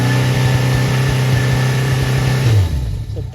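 A 1981 Yamaha XS1100 motorcycle engine revs up strongly and holds high, loud and close, then drops back toward idle near the end.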